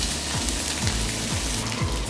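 Butter sizzles and fries in a hot, lightly smoking pan, a dense, steady crackling hiss held close and even throughout, with no talking.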